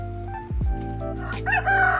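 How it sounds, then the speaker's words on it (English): Rooster crowing sound effect from a video game, a clear loud cock-a-doodle-doo call with a sweeping crow and tonal synth-like layers, heard alone. "Let's get the rooster crow."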